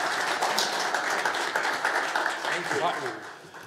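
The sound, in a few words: audience applause for speaker Stan Matwin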